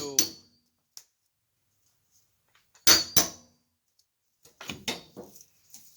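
Center punch struck on a part clamped to a table to mark hole 1, giving a few sharp metallic taps with gaps between them, plus a brief quick cluster of lighter clinks near the end.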